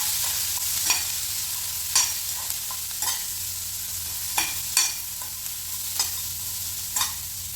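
Chana dal and turmeric fry in a pan for tomato curry, a soft continuous sizzle broken by roughly ten sharp scraping stirs of a spoon against the pan at irregular intervals.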